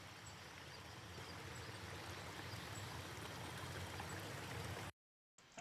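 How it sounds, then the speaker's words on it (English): A soft waterfall stream ambience used in a lo-fi track flows as a steady, hissing wash of water for about five seconds, then cuts off abruptly into silence. "then I have this waterfall stream sound that comes in and goes as the track goes"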